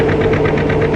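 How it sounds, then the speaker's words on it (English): An oil-fuelled engine runs steadily while plowing soil, a loud continuous mechanical drone with a low hum and a rapid knocking pulse throughout, no voices. "The oil consumed in this engine produces heat, which in turn does work by plowing this soil."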